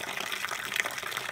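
First runnings of wort drain from the grain bed during home brewing, a steady close gush of liquid pouring and splashing continuously without pause.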